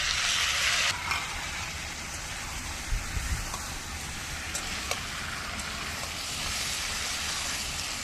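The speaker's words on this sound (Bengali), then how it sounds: "মশলা আমি ভালো করে কষিয়ে নিয়েছি বেশ কিছুক্ষণ সময় ধরে।" Spice paste frying in a pan with vegetables for a Bengali pui shaak dish cooked with masoor dal fritters. A steady close sizzle and crackle hisses throughout, with a few small pops and clinks.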